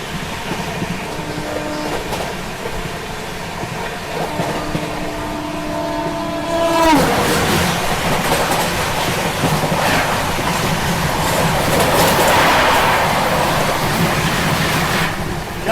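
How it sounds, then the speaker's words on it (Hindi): The Marudhar Express runs fast on the rails, with a steady roar and rhythmic clatter of wheels. A tonal horn-like whine fades early, then a louder, closer rush of passing carriages takes over. "क्या भाग रही है मरुधर एक्सप्रेस"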